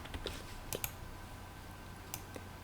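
Computer mouse clicking on an open button in CAD software, a few faint sharp clicks scattered over quiet background hiss.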